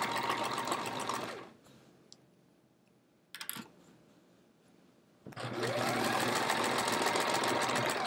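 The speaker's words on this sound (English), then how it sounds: "I was gonna sew till like a little after this last little seam here." Sewing machine stitching binding onto a hedgehog wall-hanging quilt, a fast whirring run that stops, a short burst with a click in the quiet gap, then a loud steady run again.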